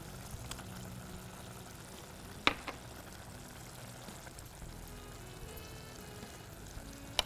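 Paneer fries with broccoli in a pan, giving a soft, steady sizzle and crackle close by, with a single sharp clink of utensil on metal partway through.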